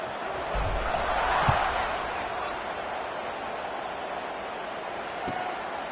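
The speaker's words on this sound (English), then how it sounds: "this crowd is buzzing after that last score" A football stadium crowd at a college game sends up a broad, distant roar that holds steady throughout, with a couple of faint thumps rising above it.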